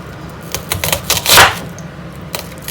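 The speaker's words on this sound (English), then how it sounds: "Cut the vegetables to small cubes like this." A knife chops washed, peeled vegetables into small cubes for a chickpea salad, giving a run of quick, crisp taps on a cutting board in an uneven rhythm, close and fairly loud.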